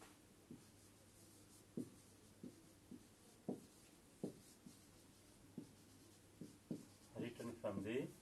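A pen or pencil scratches across paper in short, separate strokes, with a longer burst of quick scribbling near the end, close and fairly quiet over a low steady hum.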